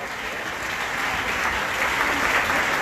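Sustained applause from a church congregation after a song during Sunday worship, steady and dense throughout with no talk over it.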